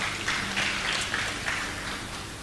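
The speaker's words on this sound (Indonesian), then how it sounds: "Kita beri tepuk tangan dulu buat mereka" An audience at a church sermon claps together in a steady, moderately loud wash of applause for a couple of seconds, with no one speaking over it.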